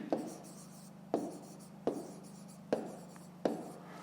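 Pen strokes on paper while writing out a fifth-grade math exercise: five sharp taps or stroke onsets spaced about a second apart, each followed by soft scratching, close and quiet over a faint steady hum.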